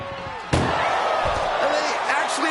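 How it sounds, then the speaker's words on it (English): A heavy body slam lands abruptly in WWE 2K25, two wrestlers crashing together in one loud, sharp impact that then rings out into a busy, sustained arena din with commentary voices underneath. "what a powerhouse collision here"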